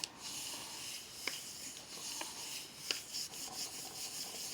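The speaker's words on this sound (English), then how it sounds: "I'm going to give it a good rub." Paper being rubbed by hand onto a gel printing plate: a faint, steady soft rubbing with a few light taps and clicks, close and quiet with no talk.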